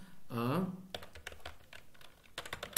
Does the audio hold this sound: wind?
no